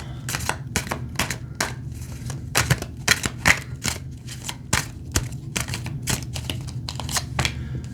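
Tarot cards are drawn and laid down one after another in a reading, a steady run of crisp, close card snaps and flicks with no voice over them.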